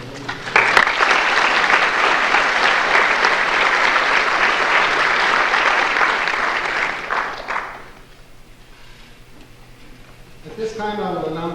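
Audience at a graduation award ceremony claps in a loud, dense, sustained burst for about seven seconds before it fades, and then a speaker begins talking over the quieter room.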